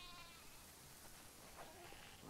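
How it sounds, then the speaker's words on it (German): Sheep bleat in a barn area of the video game The Last of Us Part II, a soft, steady chorus of flock noise with faint higher calls rising near the end over a constant background hum. "Wow, das sind viele Schafe."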